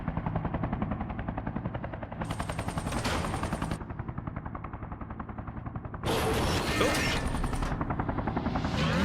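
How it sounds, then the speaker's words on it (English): In Yakuza 3 Remastered, a helicopter's rapid, pulsing rotor beat runs throughout, joined by sustained bursts of loud machine-gun fire. "Helicopter."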